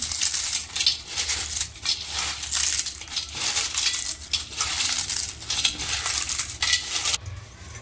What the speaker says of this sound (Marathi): हे जे चिप्स आहे वेगवेगळ्या प्रकारचे ते थोडे क्रश करून घेऊयात